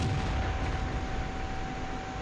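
Tank gun shots from a B1 engagement in World of Tanks, a loud, dense blast-like roar filling the short stretch with no clear separate shots and no talking.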